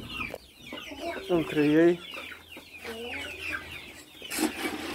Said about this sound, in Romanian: aceasta din mijloc e o găină matură, iar acesta este un pui